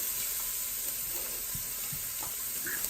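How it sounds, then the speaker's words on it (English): Onions and celery sauté on the saute setting of an Instant Pot, giving a bright, even sizzle that fills the short stretch, with a few soft thumps of vegetables shifting, close by and without voices. "we're just gonna dump a bunch of onions and celery in there to saute"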